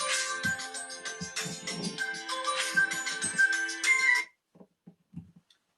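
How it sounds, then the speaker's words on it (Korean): A phone ringtone sounds loud and close: a bright, steady musical ring runs for about four seconds, then cuts off, leaving a few quiet knocks and movements. "전화가 왔습니다."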